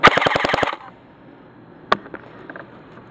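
An airsoft GSG 522 rifle fires one rapid burst of about eight shots, loud and close, followed by quiet and a single sharp shot near the two-second mark.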